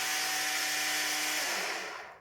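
An ECHO 58V battery string trimmer runs steadily at its slower speed setting, giving a loud, even motor whine with a faint hum that winds down and fades out at the end.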